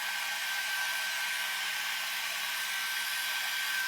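A hair dryer on its lowest setting blows steadily over handmade rustic Christmas ornaments, a close, unbroken whooshing hum with a faint whine and no talking.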